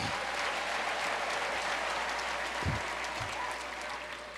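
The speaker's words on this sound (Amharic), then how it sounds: "እዚህ ለጌታ ክብር አጨብጭቡና" A church congregation claps in praise of the Lord, a dense, sustained wall of applause that holds steady throughout and fades slightly toward the end.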